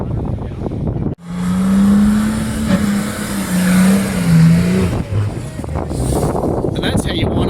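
A Nissan TD42 diesel engine in a 4x4 being wound up: after a sharp cut-in, a loud, near droning rev holds and wavers, then settles to a lower rumble with voices over it.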